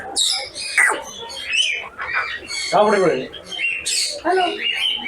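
Loud, raspy cockatoo squawks and screeches close by at a small zoo, several calls in a row, mixed with a person talking nearby.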